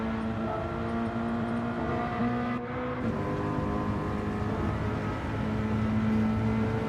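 A race car engine in Gran Turismo 7 holds a steady high drone with a slight pitch shift midway, continuous and fairly faint, with no talking over it.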